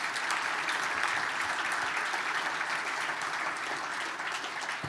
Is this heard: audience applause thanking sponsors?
yes